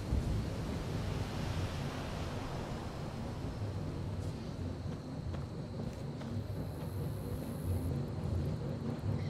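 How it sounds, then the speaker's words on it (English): A steady, dense rumble of ship ambience in Skyrim, broadband noise with a low mechanical drone and faint airy hiss, continuous throughout with no voices. "I like the ambient sound of the ship actually working"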